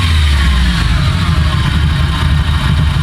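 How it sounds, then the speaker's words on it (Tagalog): Nissan Sentra B14 engine idling steadily up close, a constant low rumble with a hissy mechanical wash and no talk over it. "Normal na yung niya, yung kanyang andar ng makina."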